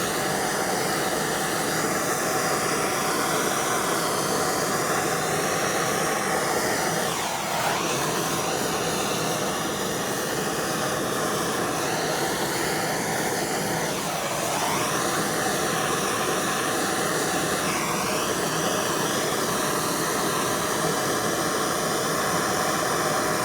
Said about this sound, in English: Now I'm gonna heat this up lightly with my torch to get it to expand.